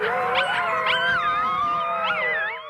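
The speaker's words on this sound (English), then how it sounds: "At 7 weeks old, the pups have started howling, marking an important milestone." Several critically endangered American red wolf pups, seven weeks old, howl together in a sustained, wavering chorus of overlapping rising and falling tones, close and fairly loud throughout.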